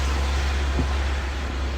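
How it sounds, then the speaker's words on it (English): Steady road rumble of cars driving on a rain-soaked road, a continuous low wash of tire and engine noise with no distinct passes, heard close and moderately loud. "There's a lot of rain and other cars on the road."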